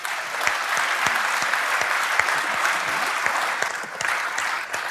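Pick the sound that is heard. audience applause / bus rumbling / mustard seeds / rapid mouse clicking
audience applause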